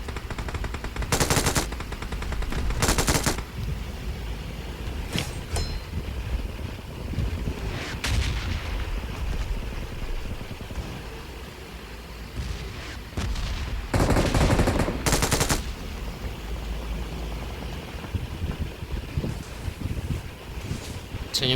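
Gunfire in a shooter video game: separate loud bursts of rapid shots at irregular intervals over a windy, rumbling background.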